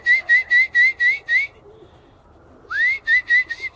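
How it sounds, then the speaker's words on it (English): A pigeon keeper's feed whistle, used to call Birmingham Roller pigeons down to land, sounds in two bursts of short, shrill, evenly spaced toots separated by a brief pause, close and clear. "using your little feed whistle that you use when you feed the birds up"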